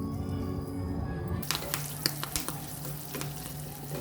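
Mustard seeds, curry leaves and Guntur chillies hit hot oil, setting off an abrupt rush of crackling sizzle with sharp popping spurts that keeps going steadily after the first second and a half.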